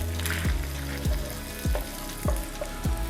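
Chopped garlic fries in melted butter and oil in a pan for mushroom soup, a steady close sizzle with regular soft thumps. No speech.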